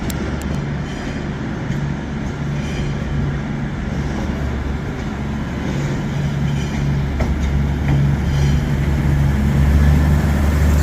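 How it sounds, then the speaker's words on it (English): A CrossCountry Voyager diesel train at Birmingham New Street station, a steady loud engine drone with a low hum, rumbling on with faint wheel clatter as it moves through the platform. "And this is cross-country Voyager."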